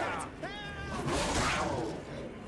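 Meowing and yowling from oversized demon cats in The Witcher 3: The Wild Hunt, a rising harmonic cry standing out briefly over busy game noise and a talking voice.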